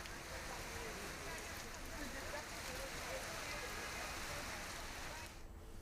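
Heavy rain comes down hard on a Mumbai street as a dense, even hiss of drops on surfaces, faint and unbroken for several seconds before cutting off, with a voice faintly underneath.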